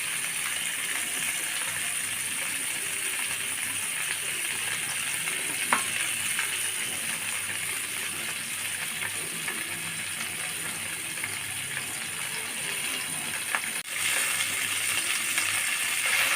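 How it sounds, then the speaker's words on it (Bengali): Taki fish fry in oil in a pan, giving a long, steady, dense sizzle with a few faint clicks and taps of a utensil; no talking. "কাকি মাছগুলো আমি একটু সময় নিয়ে ভাজবো"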